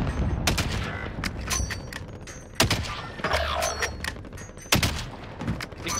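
Gunfire in Call of Duty Warzone: sharp, loud single shots and short volleys spaced irregularly over several seconds, with a couple of heavier thumping impacts and a low rumble of game ambience underneath.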